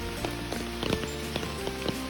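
Light rain pattering on the Appalachian Trail, soft scattered drops tapping nearby surfaces over a quiet, hissy background.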